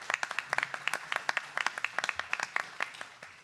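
Applause from a meeting audience of city staff and elected officials for a governing board, a steady patter of separate claps at a moderate distance, fairly sparse and even throughout.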